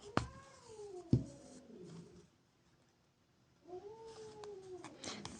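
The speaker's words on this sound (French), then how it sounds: "Vous entendez le chat qui râle?" A cat grumbles and meows close by, giving a drawn-out, wavering complaint, then a short pause and silence before another rising and falling moan with a few sharp clicks.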